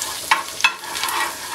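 Spices with turmeric, garam masala and salt sizzle in hot oil for a tempering before okra goes in, a steady close crackle with two sharp spits and a brief stir.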